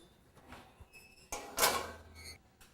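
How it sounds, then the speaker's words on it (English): An oven door thuds shut mid-clip after squash is slid back in to bake, a loud knock followed by a brief metallic rattle, with softer clinks before and after in a quiet kitchen. "now we're going to pop this back into the oven for about another 25 minutes"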